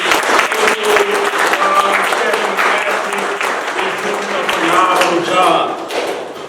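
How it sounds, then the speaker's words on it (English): Audience applause for a groundbreaking-day team, dense clapping from a crowd sustained throughout, loud and close, with scattered sharper claps and some voices underneath. "So I just want to give a round of applause to Tracy and the whole Blue Heart team."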